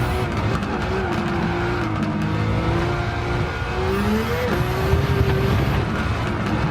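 A Nissan Skyline in Gran Turismo 7 roars at high revs as its tires squeal in long sliding pitches, the engine note rising and falling continuously and loud with no talking.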